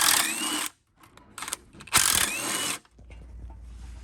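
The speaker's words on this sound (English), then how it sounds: "1/2-inch socket." A ratchet wrench with a 1/2-inch socket working engine bolts loose on a Craftsman 22-inch weed trimmer, heard as close, bursty clicking runs broken by short pauses and a low hum near the end.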